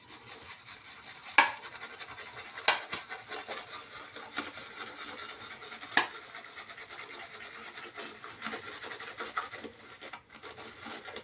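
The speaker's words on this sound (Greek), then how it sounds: "Για να βρέξω το πινέλο και να ξεκινήσω να κάνω αφρό" A shaving brush is swirled wet through West Indian Limes shaving cream, a soft continuous scratchy rubbing with a few sharper bristle scrapes, close and fairly quiet, with no talk.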